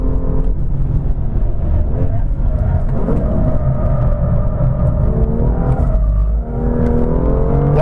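A turbocharged BMW F87 M2 engine roars at Inje Speedium race track, loud and continuous from inside the car, revving and pulling hard with a brief dip near the end as the throttle lifts.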